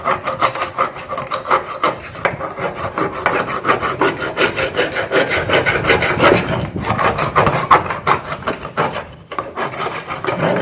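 A razor blade scrapes dirt off a surface in quick, steady back-and-forth strokes, a continuous close rasping scratch with no pauses and no voices.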